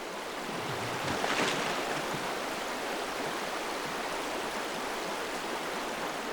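Icy stream water rushes steadily and close by where a white-throated dipper forages for insect larvae, a continuous broadband churn with a brief surge of splashing early on.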